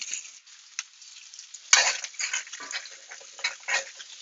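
Potatoes and green beans frying in oil in a pan, a steady close sizzle with a sharp clatter as the beans go in, followed by stirring scrapes and bursts of crackling.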